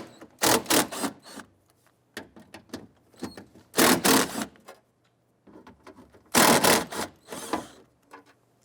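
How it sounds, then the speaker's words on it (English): Ratchet with an 8mm socket backing out the three screws of a rear power window motor on a 1999-2004 Jeep Grand Cherokee, in several quick bursts of sharp clicking separated by short pauses, close and fairly quiet. "Use an 8mm socket to loosen and remove the 3 screws holding the power window motor."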